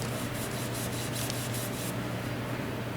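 A Scotch-Brite pad scrubs around a flaky wheel rim in quick rhythmic rubbing strokes, then shifts to a steadier continuous rasp, close and alone over a low background hum.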